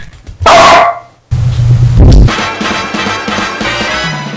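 A pet dog barks loudly at close range indoors, a few sharp barks and yips in quick succession with a short pause between bursts.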